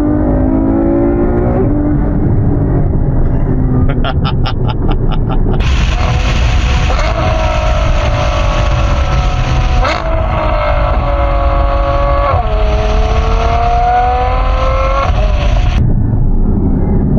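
A Ferrari F12 Berlinetta engine revs hard and climbs through the gears, its loud, high-pitched howl rising, dropping at each shift, and surging again close by.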